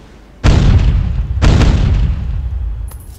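A battleship explosion as the USS Iowa is destroyed in the naval combat game Naval Art: two deep, booming blasts about a second apart, each with a long rumbling decay, loud and close.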